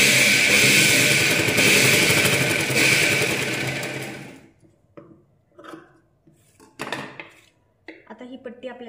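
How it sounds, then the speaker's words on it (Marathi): A sewing machine runs loudly and continuously, stitching a strip onto a katori blouse, then stops abruptly partway through, leaving brief handling clatter and a few quiet sounds. "ब्लाऊजची सरळ बाजूकडून पट्टी ठेवली आहे आणि शिलाई टाकायची आहे"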